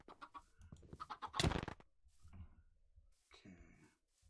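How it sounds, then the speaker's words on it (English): A Minecraft chicken clucks several times in short bursts, with one louder squawk in the middle and a quieter cluck near the end, heard close and clear with no voices. "Oh, I hear a chicken."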